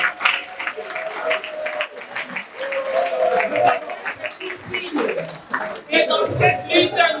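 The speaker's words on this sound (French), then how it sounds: "pouvons-nous applaudir les hommes qui ont encore leur bâton?" Women in a crowd at a breast cancer awareness and mobilization event applaud, with a dense patter of clapping mixed with voices and scattered chuckles throughout.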